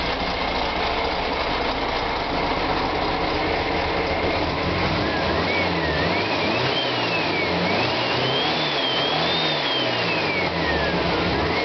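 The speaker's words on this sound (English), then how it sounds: "We'll give it a few revs." A 1600cc air-cooled VW engine in a sandrail idles roughly, then revs up a few times with rising and falling pitch, loud and close, with a whining tone riding over the rumble.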